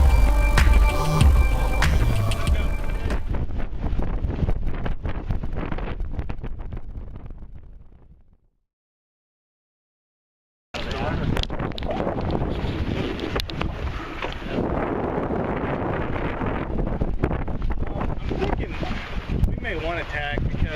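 Strong wind roars across a sailboat out in the open during a storm, with water noise throughout. A steady, loud rush is cut by a few seconds of complete silence, then returns just as loud.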